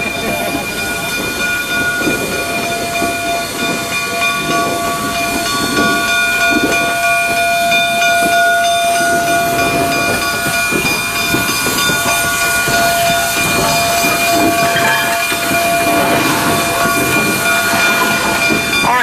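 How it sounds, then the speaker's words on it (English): Steam locomotive CP 2317 at Steamtown, taking on coal, gives a loud, continuous roar of hissing steam with sustained whistle-like tones, close and steady throughout with no talking. "As we follow the locomotive"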